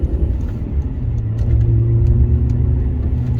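A supercharged Alfa Romeo 156 JTS accelerates at part throttle from about 20 mph, its engine note a close, steady low rumble that thickens and strengthens as the revs climb.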